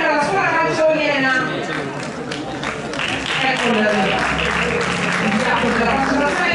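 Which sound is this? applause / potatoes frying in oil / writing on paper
applause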